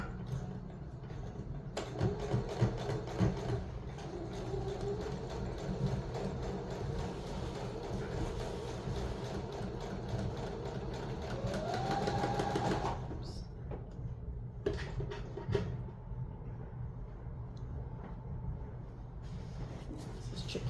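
A sewing machine stitches two pieces of decorative throw cushion fabric in a steady mechanical whir for about eleven seconds, then stops, leaving quieter handling sounds.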